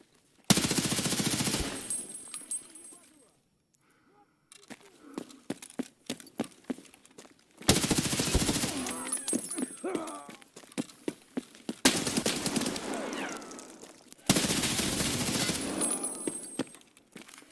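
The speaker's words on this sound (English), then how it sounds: "split between looting and shooting at scavs caught unaware by Blazed in rapid succession." Gunfire in Escape From Tarkov during a four-player squad fight against scavs: several loud sustained bursts of automatic fire separated by quieter stretches with scattered single shots and footsteps, close and sharp.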